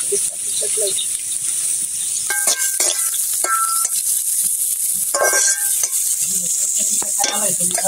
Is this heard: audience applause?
no